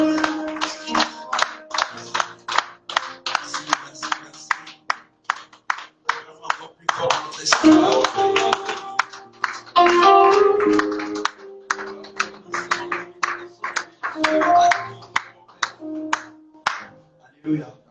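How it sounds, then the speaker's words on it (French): Church congregation clapping in unison during worship, a steady rhythmic run of sharp handclaps filling the room, with people shouting and talking over it. "Acclamez encore plus fort. Acclamez pour Jésus."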